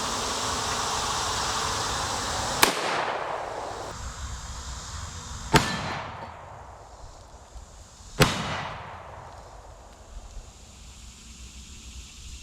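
Three sharp rifle shots from 7.62 NATO Lake City tracer rounds fired at blacksmith-made armor plate, spaced about three seconds apart, each a loud crack with a long decaying echo over steady outdoor background noise.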